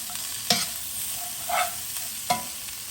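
Fish and cabbage stir-fried with Chinese five spice in a pan, a soft continuous sizzle broken by three brief scraping stirs, close and fairly quiet.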